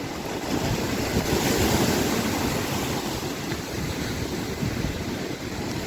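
Steady, loud sea surf washes continuously at a pebble beach in Zelenogradsk, a broad roar of waves with some wind buffeting and no voices.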